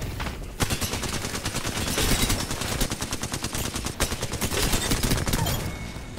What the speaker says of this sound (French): C'est où que ça tire?